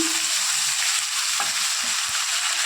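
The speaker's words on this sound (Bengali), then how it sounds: "কড়াইয়ে তেল গরম হয়ে গেছে আমি পরিমাণ মতো পেঁয়াজ বাটা দিয়ে দিলাম তারপর আদা রসুন বাটা দিয়ে দিলাম" Onion paste with ginger and garlic paste frying in hot oil in a wok, a loud, dense, continuous sizzle heard up close with no talk.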